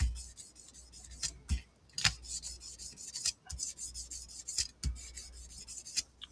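Sandpaper of 1000 grit rubbed by hand across a Stratocaster guitar body, a close, steady raspy scrubbing broken by several sharper strokes and pauses at an uneven rhythm, with no talking.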